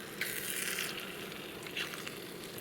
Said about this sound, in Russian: И что-то она здесь жарит, что-то там обжаривает.